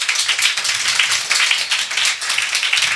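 A church congregation at a Sunday service claps loudly together, a dense, sustained burst of many hands with no talking over it.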